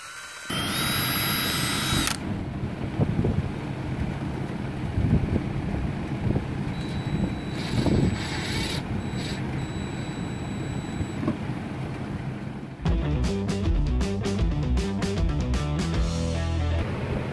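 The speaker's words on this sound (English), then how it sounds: "I'm going to drill the hole." A loud, continuous whirring power drill bores a hole for fender flare installation on a 1976 Ford Bronco, over wind noise, with a brief high whine near the start and a rattling change near the end.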